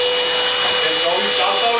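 A Wagner W665 Wall Perfect paint sprayer's turbine blows air in a steady, loud, high-pitched whoosh with a constant whine, close to the microphone and unbroken throughout.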